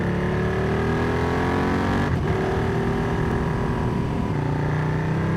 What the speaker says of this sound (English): Yeah, there's a car.